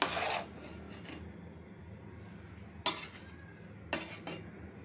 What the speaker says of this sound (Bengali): এখন একটু পেঁয়াজ ব্রাউন দিয়ে দিব, তারপরে ঢেকে দিব একটু নাড়া দিয়ে